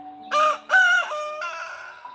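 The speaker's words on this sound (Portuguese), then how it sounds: "Cante, galo. Cante 3 vezes." A rooster crows close by, a loud, harmonic cock-a-doodle-doo in several rising and falling segments that trail off at the end, heard alone against silence.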